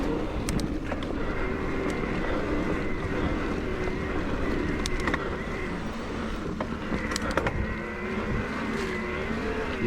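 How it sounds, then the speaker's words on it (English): Mountain bike tires gripping and churning through sand on a trail with big berms, ridden hard, heard as a steady close rushing crunch mixed with strong wind noise throughout. "You can hear the tires too, just getting traction in the sand."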